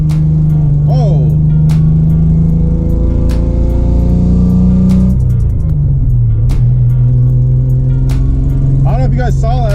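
A Nissan 300ZX Z31 drives with its engine droning and shifting pitch while the rear end breaks loose, over a steady road rumble, with brief squeals and talk near the end.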